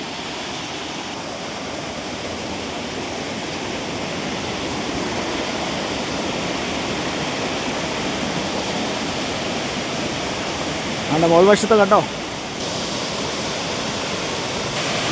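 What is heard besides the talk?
waterfall cascading over rocks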